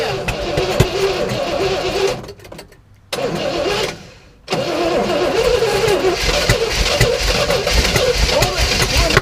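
A 1967 Oldsmobile Toronado engine cranks and catches, running loud and close, then drops out twice in brief stalls before restarting and running on; no speech is audible.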